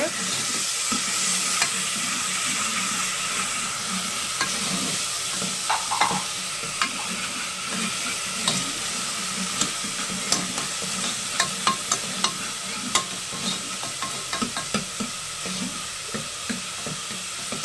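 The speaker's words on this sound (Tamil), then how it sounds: "இஞ்சி பூண்டு பேஸ்ட்டு ம போட்டு வதக்கிட்டு" Chicken sizzles and fries in a pan with ginger garlic paste while being stirred, a steady close hiss with scraping stir strokes throughout.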